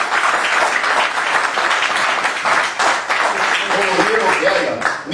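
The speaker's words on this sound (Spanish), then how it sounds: "Dale un aplauso al Señor" Church congregation applauding during an anniversary worship service, dense sustained clapping filling the room, with voices and cheers mixed in throughout.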